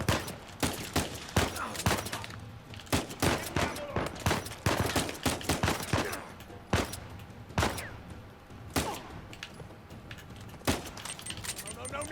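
Dense gunfire from the video game Uncharted 4: rapid, irregular bursts of loud shots crack again and again across the whole stretch, with brief gaps between volleys.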